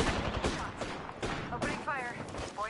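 Rapid video game gunfire, repeated bursts of shots filling the mix under overlapping voices of players talking.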